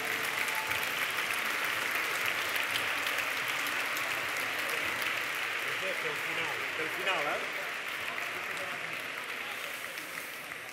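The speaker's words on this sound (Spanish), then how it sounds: "Un fort aplaudiment." Sustained audience applause at a university humanities graduation ceremony, a dense wash of many hands clapping for about ten seconds, steady and then easing slightly, with faint voices mixed in.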